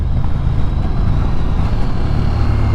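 Ducati XDiavel V4 motorcycle engine under throttle, a loud, steady low rumble held at constant pitch throughout.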